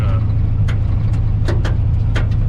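A steady, loud engine idle from an LS-swapped 1985 Chevrolet crew cab dually runs throughout, with a constant low rumble and a few brief higher-pitched bursts on top.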